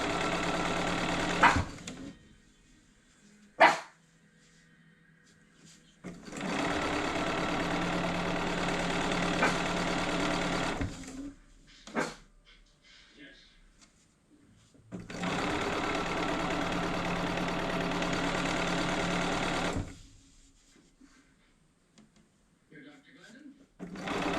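A sewing machine stitches fabric strips together in two long, loud, steady runs of rapid whirring, separated by quiet pauses with small clicks and handling of the fabric.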